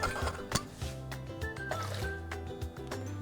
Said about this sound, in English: And then you put some water over that.